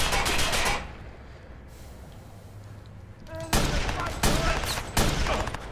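Sniper rifle gunfire in Watch Dogs: a few loud, sharp shots with a pause between them, over a low background hum, with rumbling shot noise at the start.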